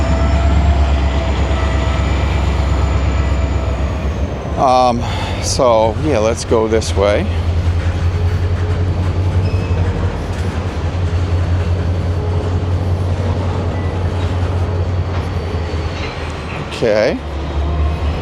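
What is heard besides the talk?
train at Bound Brook train station, New Jersey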